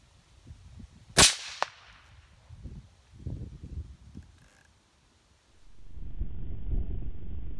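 A single sharp air rifle shot cracks out, followed by a brief second impact as rocks are knocked off the top of a box outdoors at night, with faint rustling before and a steady low rumble afterward.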